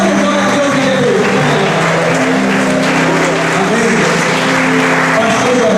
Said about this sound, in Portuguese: E você dá uma grande salva de palmas para o Senhor.